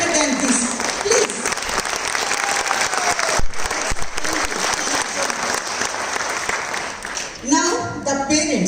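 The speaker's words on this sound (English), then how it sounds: "Big round of applause to Mrs. Anushiva, please." Audience applause at a Bharatanatyam dance school's Salangai Pooja ceremony, a dense continuous round lasting the whole stretch, with some voices and crowd noise mixed in near the end.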